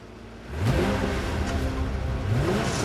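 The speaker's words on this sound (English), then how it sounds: "She gets into her car and she takes off." A car pulls away and its engine revs up, a steady, loud, close roar that climbs in pitch with a brief whine, with no voices over it.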